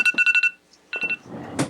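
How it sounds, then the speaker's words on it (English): An alarm going off indoors, rapid repeated electronic beeps in a quick burst, a pause, then another short run of beeps, loud and close, followed by a brief rustle. "that was my alarm there"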